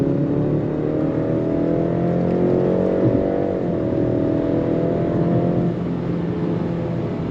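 A 2025 BMW X3 turbocharged SUV with xDrive accelerates hard, its engine droning steadily with rising harmonic tones and a brief shift dip midway, heard from inside the cabin without any talk.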